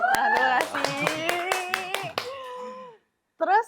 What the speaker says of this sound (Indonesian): Tepuk tangan dulu gak sih?